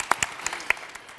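A handful of scattered handclaps, sharp and separate, from a small audience after an emotional speech at a developer panel on the climate crisis; the clapping is sparse and brief, with no voices.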